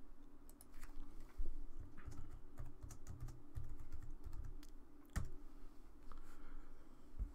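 Quick bursts of keystrokes on a computer keyboard while renaming a sketch in CAD software, close and fairly quiet, with irregular clusters of taps and short pauses.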